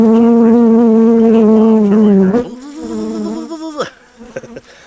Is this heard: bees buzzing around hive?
yes